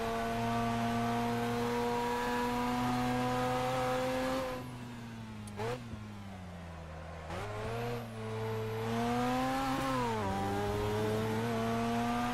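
A race-spec Miata engine in a sim racing game revs and shifts through gears, a sustained harmonic drone rising and dropping with each upshift and downshift, loud and steady with brief lifts off throttle.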